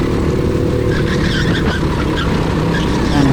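Race car at speed on a circuit during a flying lap, its engine note loud and steady throughout, with tire squeal and skidding noise mixed in and no talking.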